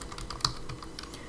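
Computer keyboard typing while entering HTML code, a quick run of light, close key clicks with one slightly sharper keystroke near the middle, fairly quiet and without any talk.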